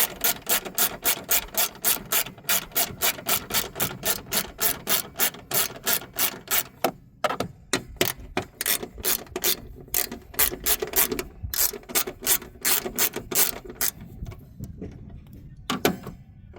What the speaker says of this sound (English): It's 2 bolts, 11 millimeter, I believe. We're going to take these out